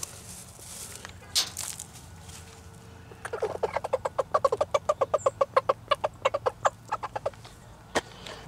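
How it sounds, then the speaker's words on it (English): Hens in a nesting box give a rapid run of sharp clucks, close by and steady for several seconds, after a few scattered calls and a brief rustle. "The hens are on the nesting box."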